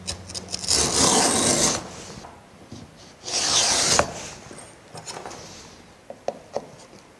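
A router plane cuts a stopped groove in wood held in a vise, making close, loud rasping scrapes in two long strokes, followed by quieter taps and small knocks.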